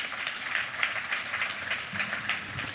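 Conference audience at a Nigerian economics gathering clapping, a steady dense round of applause filling the room without pause.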